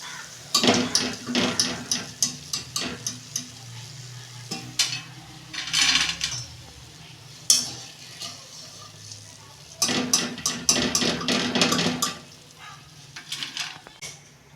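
Boondi droplets frying in hot oil for homemade laddu, giving a close, bright crackling sizzle in bursts, broken by clinks and scrapes of a metal spoon or slotted ladle against the pan, with no talking.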